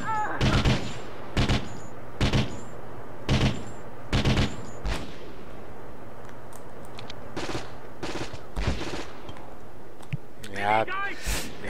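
Short bursts of automatic gunfire from a newly picked-up weapon in the PS2 game Conflict Global Storm crack out in repeated loud volleys, separated by brief pauses over a low steady background hum.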